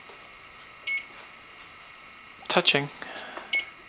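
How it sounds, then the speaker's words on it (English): Kitchen timer being switched off, a few short electronic beeps and button chirps, one near the start and a cluster later, with a voice talking softly under them. "turning off my timer before it starts going on"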